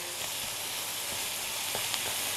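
Worcestershire sauce and tomato paste sizzle steadily in a pan with cottage pie filling, a soft continuous frying hiss with faint stirring clicks, close and unbroken, no voices.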